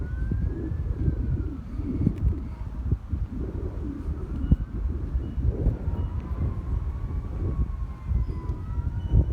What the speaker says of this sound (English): You could probably hear the ambulance.